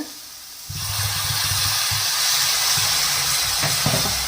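Water sizzles in a hot pan of paneer pav bhaji, a steady hiss starting after a brief quiet moment and continuing loudly, with a low rumbling bubbling underneath and a couple of faint clinks.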